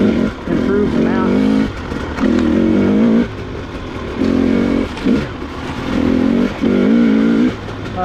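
A 2021 Husqvarna TX300i two-stroke fuel-injected dirt bike being ridden, its engine rising and falling in repeated loud revving surges with short dips between.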